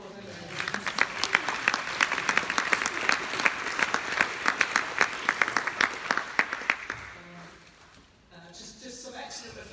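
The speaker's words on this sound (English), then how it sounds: "should we give them a round of applause anyway?" At a State of the Nation report launch in Wales, audience applause of distinct, closely spaced claps runs for about seven seconds, then stops abruptly, leaving quiet room sound and a faint voice.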